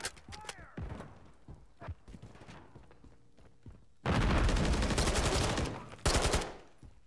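A gunfire exchange in a video game: scattered single shots and clicks, then a loud sustained burst of automatic fire and a second short burst, with voices talking in the background.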